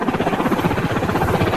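A helicopter from the film Full Metal Jacket roars close and loud, a dense, steady rotor thump with constant choppy pulsing and no voices.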